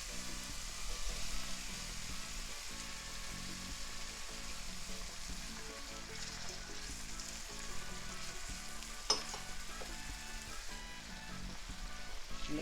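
Diced yellow pepper sizzles steadily in a hot pan on medium-high heat, a loud, continuous crackle with occasional stirring taps, close and unaccompanied by talk.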